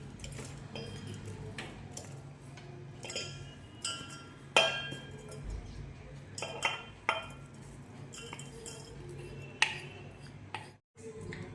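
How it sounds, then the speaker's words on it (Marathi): Jaggery being transferred into a cooking pot in a home kitchen, heard as scattered metallic clinks and knocks of utensils against the pot, with a low steady hum underneath and a brief silence near the end. "सुरुवातीला मी सर्व गुळ एका पातेल्यात काढून घेते"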